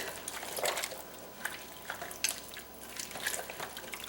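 A spoon stirring goulash soup in a slow cooker, soft wet scrapes and small liquid splashes repeating irregularly at close range, fairly quiet.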